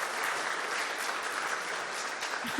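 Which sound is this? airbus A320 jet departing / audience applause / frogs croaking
audience applause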